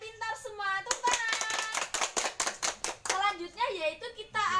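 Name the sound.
children clapping hands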